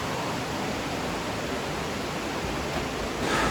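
Steady broadband rush of a small waterfall beside a cave in Mexico, a constant close splashing hiss that holds unbroken and swells slightly louder at the very end.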